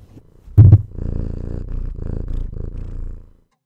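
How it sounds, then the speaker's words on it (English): A cat purrs right against a close microphone, a sharp bump near the start followed by a steady, rumbling purr lasting about three seconds. "Purr into the microphone."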